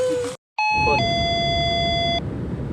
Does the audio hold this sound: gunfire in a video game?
no